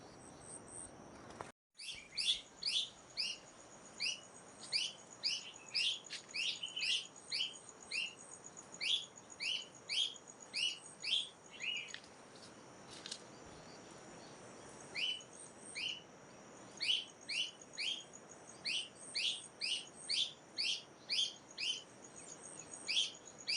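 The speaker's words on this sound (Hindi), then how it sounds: "तो बहुत सारी चिड़ियाँ हैं हमारे बगीचे में।" Many birds chirp in a village garden in the hills at evening, repeated bright bursts of tweets coming in rhythmic clusters, moderately close and alone with no speech.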